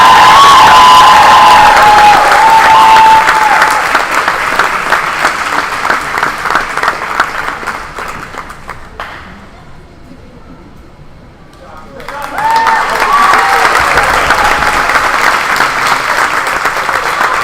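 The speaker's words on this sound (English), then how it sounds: "Let's give them a big round of applause." A crowd applauds loudly with some cheering at a high school volleyball state finals awards, fading out partway, then the clapping surges back strongly.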